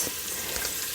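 Wet basil sizzles steadily in hot oil in a pan, a close, continuous hiss with faint crackles.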